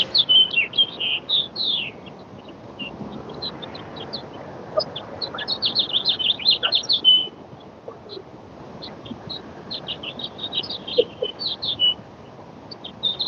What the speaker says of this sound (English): It sounds like there's a bird right above me.